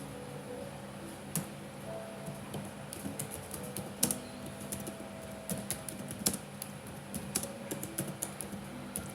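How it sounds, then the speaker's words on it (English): Quiet, steady typing on a computer keyboard while a database report is built, with irregular key clicks and a few louder keystrokes across the whole stretch. "So I'm just typing it here."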